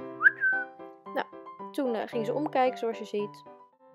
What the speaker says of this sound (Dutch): Ik ging naar hier fluiten. Dus dat klinkt een beetje zo.